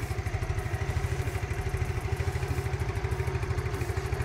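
A used 2010 Yamaha Mio Sporty scooter engine idles close by with a steady, even putter and low rhythmic thumping that holds smooth throughout, with no voices.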